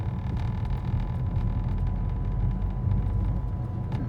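A manual car's engine drones loud and close as it pulls uphill on a winding village road, a steady low rumble with a faint hum over it, no voices heard.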